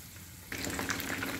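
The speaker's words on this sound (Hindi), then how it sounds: "ये एक एक पीस उठाकर अब हम फ्राई करेंगे" Spiced chicken pieces dropped into hot oil for chilli chicken, a quiet hiss that jumps into a loud, steady frying sizzle partway through.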